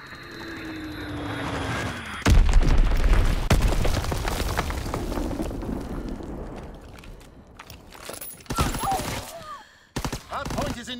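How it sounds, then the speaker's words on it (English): A Fritz X bomb dropping and exploding in a combat video game: a sudden heavy boom followed by sustained rumbling and crackling debris, with scattered sharp impacts and gunfire later and a voice speaking over parts of it. "Dropping Fritz X-Bomb."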